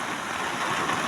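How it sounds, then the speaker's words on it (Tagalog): Heavy rain pouring down outdoors, a dense, loud and continuous hiss of water with no gaps and no voices. "Sobrang lakas na talaga ng ulan."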